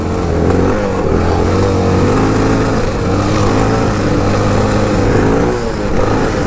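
A Honda XR650L retro rally motorcycle engine roars at high RPM while riding off-road, loud and close, with a steady throbbing drone that rises and dips slightly with the throttle.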